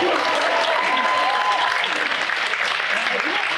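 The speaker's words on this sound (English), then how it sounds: "Can we get another round of applause for our friends up here?" An audience at an anime convention cast panel applauds loudly and continuously, a dense roar of many hands clapping, with crowd noise and a voice briefly heard beneath it.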